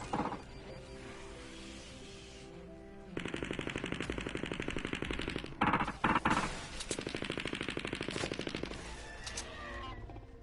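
Rapid automatic gunfire in Fortnite Save the World, fired at mist monsters, comes in long rattling bursts with short pauses between them, loud and close with no talk over it.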